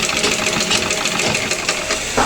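A sewing machine stitches through layered fabric in a continuous, steady mechanical whir with rapid needle ticking, running close and loud throughout with no pause.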